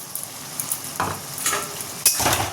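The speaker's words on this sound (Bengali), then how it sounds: "এবার ভালো করে নেড়ে ছেড়ে পোস্তটা একটু ভাজা ভাজা হবে" A paste of poppy seed and green chili fries in a pan with a steady soft sizzle, broken by a few scraping stirs of a spoon, close by and with no talk.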